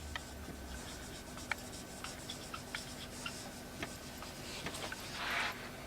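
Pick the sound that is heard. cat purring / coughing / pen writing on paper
pen writing on paper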